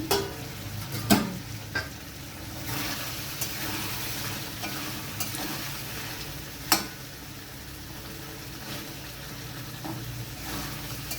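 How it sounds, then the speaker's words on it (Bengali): Spiced new potatoes and ridge gourd are being stirred in a pan over medium heat, with a steady soft sizzle under scraping spoon strokes and a few sharper knocks against the pan. "এবার আমি একটু মশলাটা নাড়াচাড়া করে নিচ্ছি সবজির সাথে"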